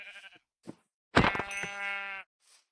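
A sheep bleats loudly in the Minecraft video game, one long wavering cry, close and clear, with a couple of shorter fainter bleats before and after it.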